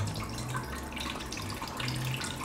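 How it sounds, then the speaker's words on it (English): About one cup of water is poured from a bowl into a pot for tteokbokki already holding chili powder and gochujang, a continuous close splashing that runs throughout without talk. "let's put some water"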